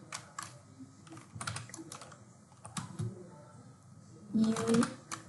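Bursts of keystrokes clatter on a computer keyboard, several quick runs of close, crisp clicks with short pauses between them, while someone talks faintly in the background.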